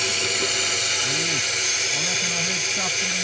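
A suction vacuum runs steadily with a constant broad rushing hiss, while muffled voices speak over it.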